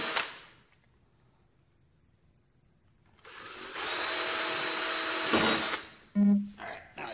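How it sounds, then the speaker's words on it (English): A power drill whirs for a few seconds after a quiet pause, drilling small holes in a small boat, close and steady, then winds down with a brief clunk. "Just gonna drill some holes"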